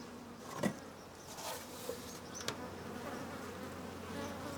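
Honeybees buzz around an active, healthy frame hive in a spring garden, a steady soft insect drone with a few brief louder passes close by, no talking.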